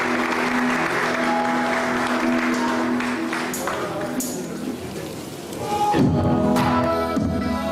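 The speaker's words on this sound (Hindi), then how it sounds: "आज सभी के लिए तालियां बहुत।" Studio audience applause on a television talk show, a steady wash of clapping that swells near the end while a voice speaks over it.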